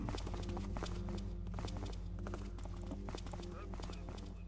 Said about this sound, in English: I'm hearing footsteps up this way